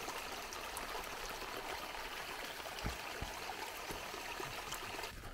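Steady broadband rush of rainwater flowing through an opened swale, like a small stream trickling through a channel, close by and continuous with a few faint knocks.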